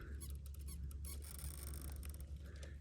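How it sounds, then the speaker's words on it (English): Faint, irregular high squeaks from the plastic pivot balls of an RC truck's straight axle flexing, repeating in short bursts over a low steady hum. "You can hear the pivot balls squeaking in this."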